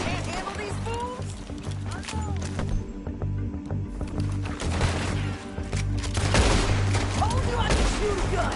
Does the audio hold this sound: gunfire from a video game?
yes